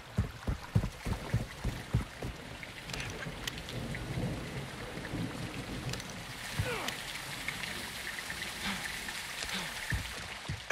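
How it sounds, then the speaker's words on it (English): Heavy rain pours down in Modern Warfare II, a dense steady wash with thunder rumbles and scattered sharp cracks and drips throughout, loud and close. "It's raining fucking hard."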